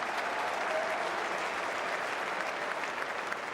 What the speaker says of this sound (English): Nathan Brown coming off the ground for Melbourne, hence the applause.